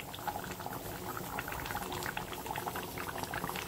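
A pot of chicken curry bubbles steadily at a rolling boil, a dense patter of small pops and gurgles close by, with no voices.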